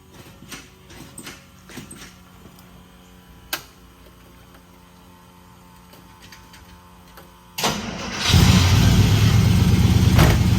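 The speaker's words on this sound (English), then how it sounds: "He spent 13 years restoring it, and we're going to do a little cold start on it right here." A 1953 Studebaker Commander with a 289 engine at cold start. Several seconds of quiet ticks and clicks lead into an abrupt, loud start, and the engine then runs steadily close by.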